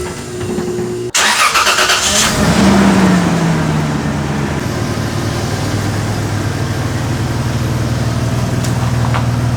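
A third-generation Toyota 4Runner, running without its fan shroud after a radiator replacement, cranks and fires up, then settles into a steady, loud engine drone while driving, with no one speaking.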